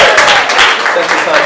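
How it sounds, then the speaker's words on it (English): Applause and cheering from a comedy show audience at Omega House in Charlotte, a dense, steady wash of clapping with small surges, loud and close throughout. "give me a round of applause"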